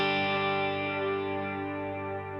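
Electric guitar played through a rig of effects pedals, heavy modulation panning and smearing the tone while delay repeats pile up into a sustained, shimmering wash of chords, steady and fairly loud with no voices.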